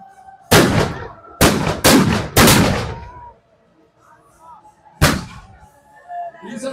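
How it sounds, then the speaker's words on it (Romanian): Gunfire at a historical battle reenactment during a festival, with four sharp loud blasts in quick succession followed by one more after a pause, each ringing out in open air. "Însă turcii răspund cu focuri de armă"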